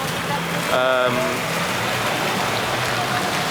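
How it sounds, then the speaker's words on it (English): Heavy rain pours steadily in Oslo, a dense, even hiss that stays constant throughout, with a brief tonal hum from a passing vehicle or engine near the start. "it has been absolutely pissing it down today"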